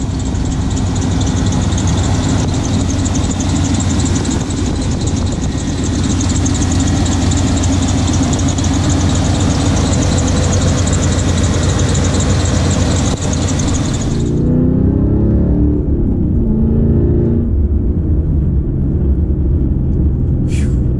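A Camaro with a 350 V8 that sat unused for about fifteen years idles loud and near with a constant throaty rumble, which drops to a deeper, quieter churn for the last several seconds.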